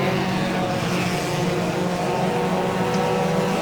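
A Ford Cortina race car in the rFactor racing game holds a loud, steady engine drone close up, with a constant buzzing tone that barely changes across the few seconds.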